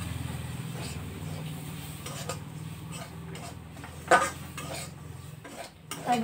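Cashews and raisins dropped into a pan of semolina, giving soft clinks and scraping stirs against the metal with a faint sizzle, a sharper clatter near the end, no talking.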